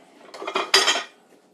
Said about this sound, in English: I'm going to throw a little butter in the frying pan there.